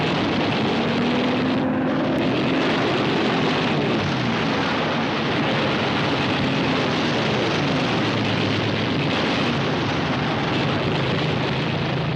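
Propeller engines of a B-29 Superfortress bomber and Japanese fighter aircraft over Tokyo Bay, a loud continuous roar with droning tones that slowly rise and fall, filling the whole stretch without pause.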